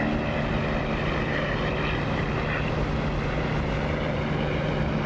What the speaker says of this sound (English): Engine sound in this is beautiful, with the canopy open anyway.